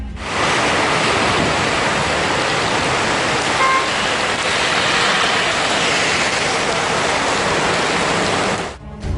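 Heavy rain roars over Hyderabad streets in a dense, constant wash, loud and unbroken throughout, with a faint hum of traffic beneath.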